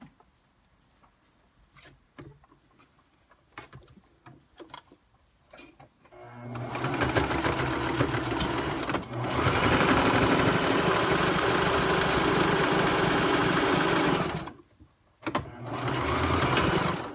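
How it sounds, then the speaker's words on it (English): Sewing machine stitching a catnip fish toy: a few scattered clicks and taps, then a steady loud mechanical whirr that runs for about eight seconds, pauses briefly, and starts again. "you sew back and forth to make sure"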